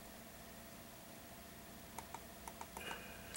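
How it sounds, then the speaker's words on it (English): Computer keyboard keys pressed, including the shift key, alongside mouse clicks: a handful of light, sharp taps in quick irregular succession, faint and close over a steady hiss. "you hit the shift key, you click on anchor points"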